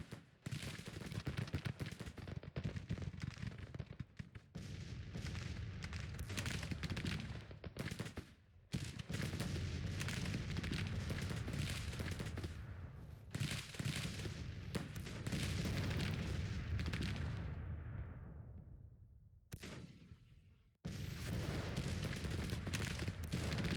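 Civil War cannon artillery booming in a Grand Tactician battle, heavy repeated blasts and rolling gunfire filling the stretch almost without pause, with a couple of brief lulls.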